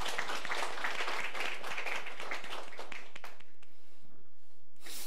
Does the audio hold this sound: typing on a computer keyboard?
no